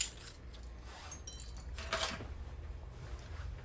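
A set of RV keys jingles and clinks in a brief, soft metallic rattle around the middle, close by, with low room rumble underneath.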